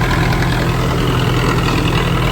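A tractor engine idles in a farm field: a loud, steady low rumble close by that holds unchanged for a couple of seconds, with no voices.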